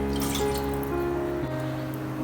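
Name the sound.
water poured into a pan for making tea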